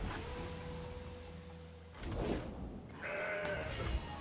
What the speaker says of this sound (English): That's a goat.